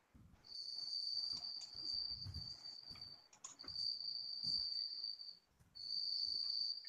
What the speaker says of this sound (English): Was that the crickets I hear?